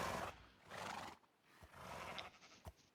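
Horse neighs and whinnies from the video game Minecraft, a few short bursts with brief pauses between them, fairly faint, no talk.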